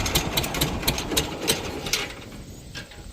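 A combine harvester engine runs just after starting, a loud steady mechanical chugging with rapid rhythmic clattering and ticking pulses throughout.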